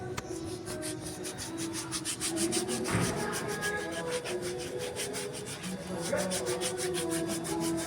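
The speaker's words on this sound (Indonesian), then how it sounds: "kita bersihkan dulu kaliper menggunakan amplas." Steady, rhythmic scraping of sandpaper on a brake caliper, close up, with quick repeated back-and-forth strokes.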